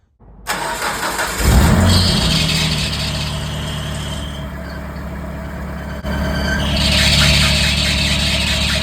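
A car engine with a newly fitted tensioner pulley and fresh, oiled bearing starts up and settles into a loud, steady idle, a high belt whine rising over the running engine at times.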